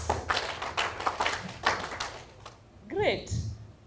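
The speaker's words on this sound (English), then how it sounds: "4 claps." Crowd hand-clapping at an International Women's Day celebration in Nakuru: several sharp, evenly spaced claps in a row, followed by a short voice as the clapping stops.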